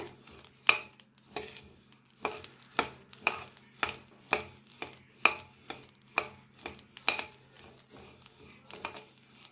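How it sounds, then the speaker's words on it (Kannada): Mustard seeds roast in a pan on low heat for a raw mango pickle, giving off a string of close, crisp pops and clicks at an uneven rhythm against a quiet background, with no one speaking. "ನೋಡಿ ಸಾಸಿವೆನೂ ಇವಾಗ ಚಟಪಟ ಅಂತ ಶಬ್ದ ಬರ್ತಾ ಇದೆ"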